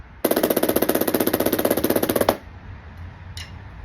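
Fast, even strokes of a double down stroke roll on a Tama Star Bubinga drum set rattle out for about two seconds, loud and close. The roll stops abruptly, and a faint tap follows.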